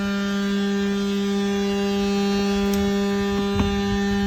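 A DT220 concrete vibrator rated for 380 volts runs on a 220-volt test supply, giving a steady, loud electric hum with a constant pitch and occasional faint clicks, no talk.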